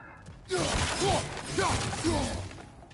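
Objects being smashed apart in God of War Ragnarok on PS5 give four quick shattering crashes spaced roughly half a second apart, each a loud crunchy burst with scattering debris over game background sound.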